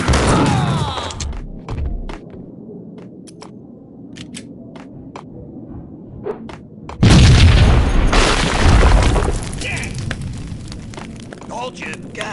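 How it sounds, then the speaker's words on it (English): Deep booming blasts of a bomb-like explosion in the Max Payne game, a heavy boom at the start and a second, longer, louder rumbling blast midway, with sharp crackles and thumps between them. "I thought it was a bomb for sure"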